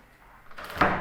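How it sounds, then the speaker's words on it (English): A 1930s Otis gated traction lift door shuts automatically on a replaced closing mechanism, heard as a short, soft slide that ends in a single sharp clunk near the end, close by and with no talking. "The mechanism that automatically shuts the door has been replaced"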